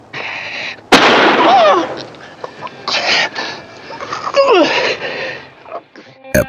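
A gunshot cracks sharply near the start of a 1955 western film scene, followed by shouts and cries mixed with music and scuffling movement.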